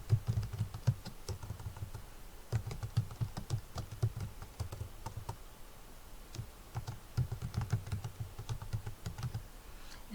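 Quiet, close typing on a computer keyboard, with clusters of quick key clicks separated by short pauses, steady and unhurried, with no talking.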